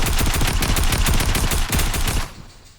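Loud, rapid automatic gunfire from the Fortnite video game, a dense burst of shots that runs steadily for a couple of seconds and then cuts off, with no one talking.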